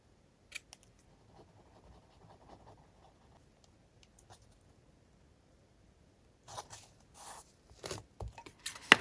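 Scissors cut paper on an angle during junk journal crafting. Faint scattered snips and rustles come up close in a quiet room, followed by a denser burst of crisp cutting near the end.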